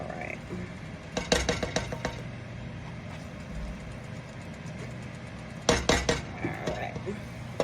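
Marshmallow fluff is stirred in a pot, with two bursts of metal spoon scraping and clinking against the pan, separated by a quieter stretch of low background hum.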